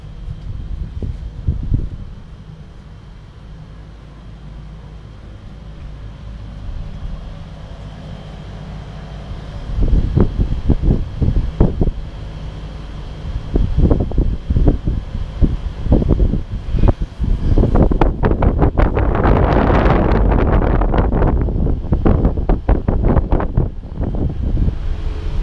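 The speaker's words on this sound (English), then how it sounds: "This is the compressor noise." A TCL ductless split air conditioner's outdoor compressor runs through a defrost cycle, a steady low mechanical hum that swells into a louder, rushing whoosh partway through, heard alone without talk.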